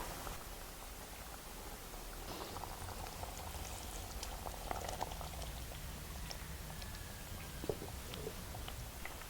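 A pot of spicy sardine curry simmers and reduces steadily, with a soft continuous bubbling and occasional small pops close by, no voices present.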